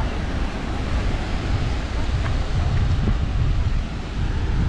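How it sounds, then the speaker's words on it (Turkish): Waves washing onto the shore of a choppy sea at Batumi, Georgia, a loud, continuous rushing surf mixed with wind buffeting the microphone, with no clear speech. "Dalgalı bir deniz."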